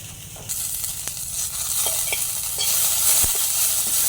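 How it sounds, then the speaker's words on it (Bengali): Eggs frying in a pan in a home kitchen, with a continuous sizzle that grows louder partway through, plus occasional scraping and clinks, and no voices. "এখানে যে ডিম ভাজছে"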